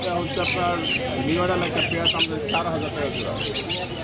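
Grey and white-face cockatiels at a bird market give sharp, repeated squawks and chirps over a person talking nearby.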